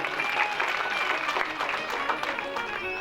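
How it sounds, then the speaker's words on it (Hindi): Audience clapping at a Shiv Mahapuran katha religious discourse, a dense, even burst of applause lasting a few seconds, fairly soft and without any voice over it. "एक बार जोरदार ताली।"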